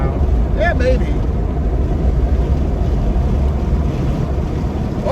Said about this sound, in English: that does increase the amount of wind that's coming in here a little bit